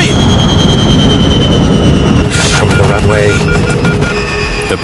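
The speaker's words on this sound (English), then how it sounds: "The passengers can hear the sound of the engines beginning to shut down." Airliner jet engines flaming out and spooling down, a loud, continuous roar with whining tones that shift and fade mid-way, heard from inside the cabin.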